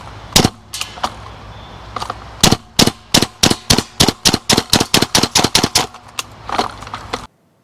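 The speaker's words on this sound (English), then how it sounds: "when firing this quickly, we do still have BBs striking the end of the muzzle here" An airsoft MK12 gas blowback rifle fires a fast string of about twenty crisp, snapping shots, with BBs striking the end of the muzzle. The shots speed up in the middle and then stop abruptly.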